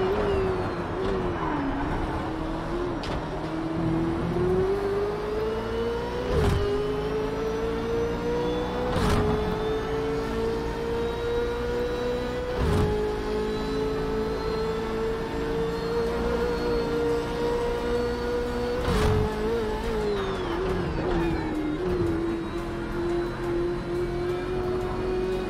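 A Ford Falcon FG race car lapping Bathurst in Project CARS, its engine holding a loud, continuous tone that rises and falls through several gear changes, with sharp clicks and pops at each shift.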